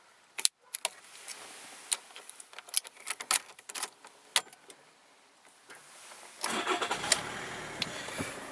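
A 2004 Volkswagen Jetta TDI starts up after a run of quiet jingles and clicks from keys and the cabin, then settles into a steady diesel idle close by, with no one speaking.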